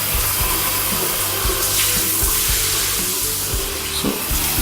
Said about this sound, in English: it shuts off the top and activates the hand faucet